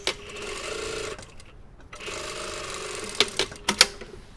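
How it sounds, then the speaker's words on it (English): A sewing machine stay-stitches the pocket bags of a pair of jeans, running in steady bursts with a short pause in the middle, then sharp clicks and taps near the end. "we're just going to stay stitch the pocket bags in place"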